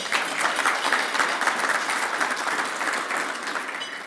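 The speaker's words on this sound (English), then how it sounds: "Let's give our mayor a round of applause." A large audience gives a sustained round of applause for the mayor of Virginia Beach at a business association's annual address, dense steady clapping holding level for several seconds.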